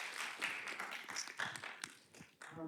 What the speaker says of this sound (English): Can we have a small clap for Lotte?